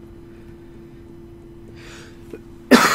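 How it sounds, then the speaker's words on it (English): A single sudden, loud cough right up close, bursting out after a stretch of quiet room hum. "didn't mean to cough on you"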